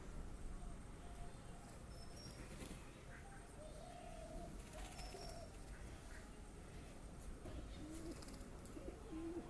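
Domestic pigeons in a loft coo in soft low bursts, a few calls rising over steady background noise with no voices.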